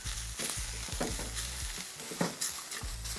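Pak choy stems, carrots, ginger, onion and garlic stir-fry in a hot pan, giving a steady sizzle with quick tossing scrapes and faint clatter, close and fairly quiet, with no voices.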